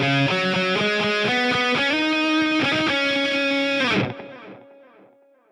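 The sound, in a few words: instrument intro track played with reverb effect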